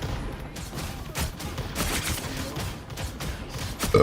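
Dense, rapid gunfire from the hero shooter Marvel Rivals, sustained bursts of shots firing continuously and loudly at close range, with a brief extra burst right at the end.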